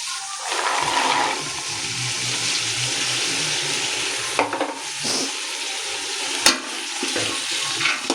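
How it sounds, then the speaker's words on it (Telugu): Meal maker and green peas frying in oil in a large batch, a loud continuous rushing sizzle with occasional sharp knocks and clatters from stirring. "ఇవన్నీ కూడా బాగా ఆయిల్లో ఫ్రై అవ్వాలండి"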